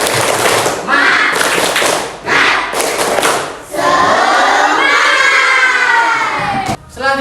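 A class of students does a rhythmic tepuk semangat clapping chant, with several bursts of synchronized claps. The children then shout together loudly, and the noise fades at the end.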